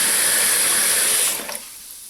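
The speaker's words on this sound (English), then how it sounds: "just add water to this so that all the bones are covered" Water pours steadily into a pan of bones and stock for a medieval-style broth, a loud close gush lasting about a second and a half before cutting off to a faint trickle.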